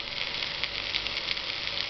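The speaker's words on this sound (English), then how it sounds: "Now we are frying the vegetables." Vegetables fry in a hot pan for gobi manchurian, giving a steady, even sizzle with a faint hiss that holds unchanged from start to finish, with no talking.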